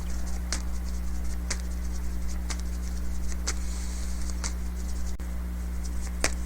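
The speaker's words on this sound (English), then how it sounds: "I'm just shuffling and shuffling." Tarot cards being shuffled by hand, soft papery riffles and taps repeating every second or so, close and quiet over a steady low electrical hum.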